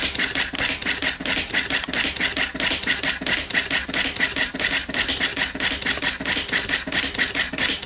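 Panasonic KX-R210 electronic typewriter running its built-in demonstration program, a steady, fast, rhythmic clatter of printing strikes repeating continuously, close and loud with no voices.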